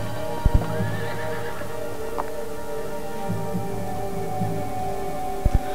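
A horse whinnies and hooves clip-clop in a spooky sound-effect scene of a phantom patrol at Gettysburg, with a steady low hum and drone throughout and occasional thumps.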